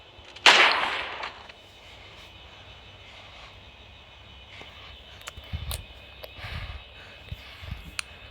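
A single sharp sniper rifle shot cracks early, followed by a fading echo and a few faint, scattered knocks.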